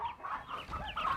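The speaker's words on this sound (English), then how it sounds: "Crazy chickens out there making noise." Chickens cluck and squawk outside on a family homestead, a busy, overlapping flock chattering steadily at moderate distance with no talk.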